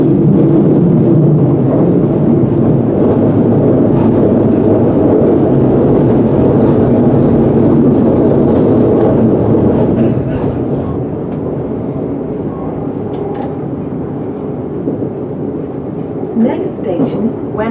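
An electric passenger train on the Watford DC Line between London Euston and Watford Junction runs with a continuous loud rumble and rail noise, easing slightly toward the end, with faint clicks over the track.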